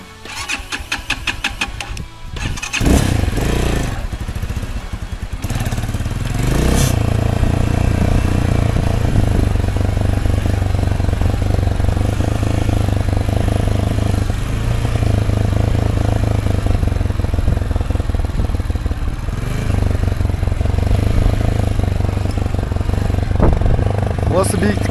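Enduro motorcycles, a 300cc X44 and a 250cc X11, ride uphill on a motocross slope. Loud, close engine bursts and revs come at the start, then settle into a sustained, steady drone that continues to the end.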